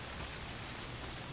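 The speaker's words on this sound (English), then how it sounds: "Why is it always raining?" Steady rain in the video game Days Gone hisses evenly and fairly faintly, a constant wash of falling drops with no voices and no pauses.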